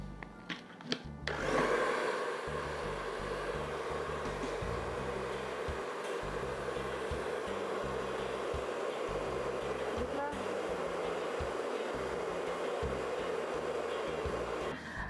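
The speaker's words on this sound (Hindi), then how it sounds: "जब आप हेयर ड्रायर यूज़ कर रहे हो तो इसका जो हीट मोड है वो आप मिनिमम पे रखें" Hair dryer blow-drying hair with a round brush, a steady loud whirring blast that starts after a second of handling clicks and runs unbroken, close up.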